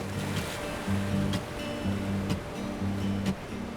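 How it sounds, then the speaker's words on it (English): Ocean waves wash against rocks on the open coast of Aotea, a continuous surging roar with periodic swells, steady and close, with no voices. "it's the energy of the ocean"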